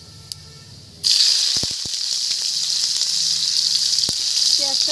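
Chopped onions dropped into hot mustard oil already tempered with nigella seeds, for a Bengali mustard chapila fish curry, burst into a loud, steady, close sizzle after a brief quieter start, with a few clinks of a utensil against the pan.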